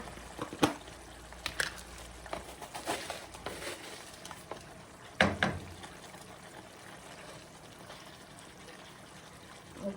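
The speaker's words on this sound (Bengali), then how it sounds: "হাতে একটু নাড়া দিয়ে দেবো" Koi fish curry with green chili and coriander leaves is stirred in a pan, giving soft wet sloshing and intermittent scraping strokes close by, a few louder clatters standing out over a steady low simmer.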